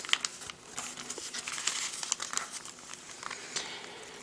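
Paper being folded for an origami rose, soft continuous crinkling and rustling with a few crisp crackles, close and quiet, without talk.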